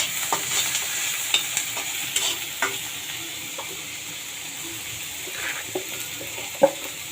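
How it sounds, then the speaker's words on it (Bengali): Water lily stems and prawns fry in a pan with a steady soft sizzle. Scattered scrapes and clicks come from a utensil stirring and tapping the pan, and no one talks. "এগুলো একটু নাড়াচাড়া দিয়ে"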